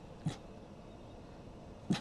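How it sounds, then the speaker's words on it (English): Dog out on a carp fishing trip giving two short, faint barks about a second and a half apart over low outdoor background noise. "Look at him barking, look, he's growling."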